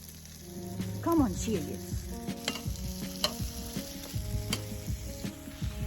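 An onion is stirred as it fries in a hot pot over an outdoor bush-cooking fire, giving steady sizzling with scraping and clinks throughout, while a person speaks briefly.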